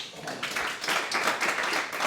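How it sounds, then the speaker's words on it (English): Audience applause in a conference room at a talk on tax and retirement planning, a short burst of many hands clapping at moderate volume, fairly close and without speech. "Can we have a round of applause?"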